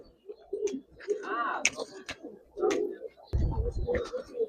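A male Giribaz pigeon coos in soft, repeated bursts close by, with people talking over and between the calls.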